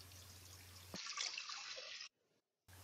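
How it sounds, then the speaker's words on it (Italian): Water pours steadily into a cooking pot for about a second, then stops abruptly, followed by a short drip and quiet. "Versiamo l'acqua in pentola"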